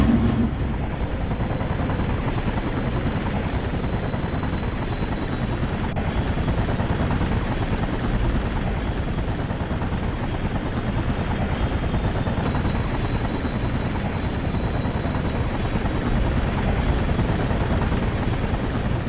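A helicopter in the video game Infamous holds a steady, loud rotor roar with a continuous low chop, unbroken and close throughout, with no one talking over it.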